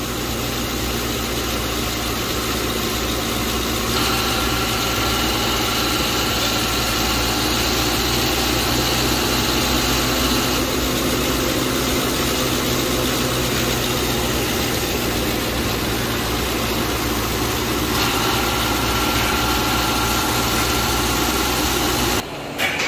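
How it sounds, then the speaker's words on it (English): A 2011 Lincoln Town Car engine idles steadily with its AC compressor running, a continuous close hum and vibration holding evenly throughout, ending abruptly. "But man, that compressor does not sound happy."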